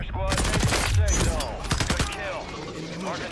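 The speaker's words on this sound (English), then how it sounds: "The one far is shooting." Rapid automatic gunfire in the Warzone video game on Fortune's Keep, loud close bursts of overlapping shots that thin out toward the end.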